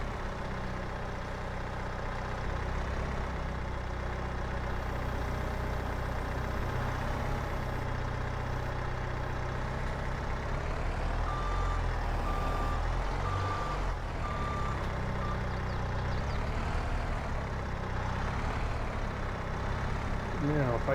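Truck engine idling and maneuvering in Farming Simulator 22 on PS5, with steady reversing beeps repeating over a continuous low engine drone, close and loud throughout, under background game sounds.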